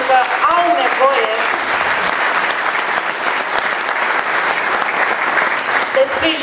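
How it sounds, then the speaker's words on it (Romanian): A crowd applauds the candidates at the PNL Sibiu campaign launch in 2016, with loud, steady, dense clapping throughout and a few voices faintly mixed in. "Vă rog să-i aplaudați pentru că au nevoie"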